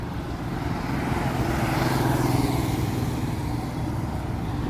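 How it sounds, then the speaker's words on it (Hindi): Road traffic passes in a steady, dense roar beside a tree-lined road in Greater Noida, India, a continuous rumble of vehicle engines and tyres with no voices. "ट्रैफिक का आवाजाही का एक बहुत ही सुंदर रूप यहाँ से दिखाई पड़ रहा है"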